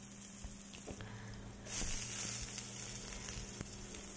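Carrots and capsicum cut into thin strips sizzle in hot oil in a wok for crispy chilli chicken, a steady crackling fry that swells louder partway through, with occasional soft clicks and no talking.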